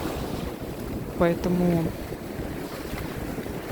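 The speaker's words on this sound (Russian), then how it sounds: "мы приехали не купаться, а больше наслаждаться видами, шумом прибоя" Surf washing onto a beach at Hikkaduwa, Sri Lanka, a steady broadband rush with wind buffeting the microphone and a brief spoken word partway through.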